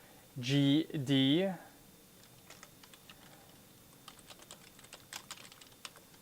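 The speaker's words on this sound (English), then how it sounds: "That's what I'm typing." Keystrokes on a computer keyboard rattle in quick, uneven bursts, fairly close but soft, following a short stretch of talking at the start.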